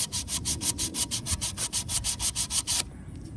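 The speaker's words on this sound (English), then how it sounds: "you can use some sandpaper for some edges" Supercharger port edges on an LSA supercharger being hand-sanded with 80-grit sandpaper, a fast, even rasping back-and-forth of about twenty strokes close up that stops abruptly near the end.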